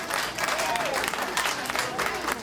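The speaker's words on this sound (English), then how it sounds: "Please, let's have a nice round of applause for my protege," Audience applause for a performer at an honoring event, a steady wash of clapping from a crowd with no clear break across the short span.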